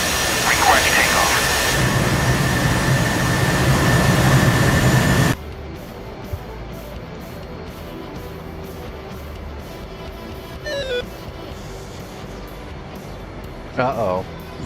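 A jet aircraft engine in a flight video game roars loudly and steadily during takeoff, then drops suddenly to a lower hum with faint intermittent beeps.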